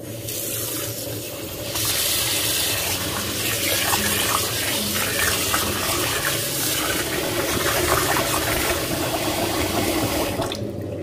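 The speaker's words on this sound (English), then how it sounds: "I'm going to add in cold water first" Cold water is poured steadily onto gari for several seconds, a close, continuous splashing rush like a running tap, which stops abruptly near the end.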